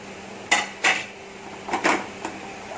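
A spoon clanks against a pan as chili powder and turmeric are mixed into a home-cooked Konkani fish curry, giving several close metallic knocks and scrapes in uneven pairs, with no talk.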